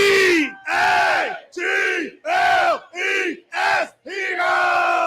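Philadelphia Eagles fans chanting and cheering in repeated loud crowd bursts around a tailgate fire pit, roughly seven yells in quick succession with brief gaps between them.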